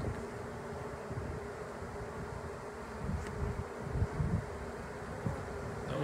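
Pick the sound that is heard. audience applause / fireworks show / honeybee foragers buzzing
honeybee foragers buzzing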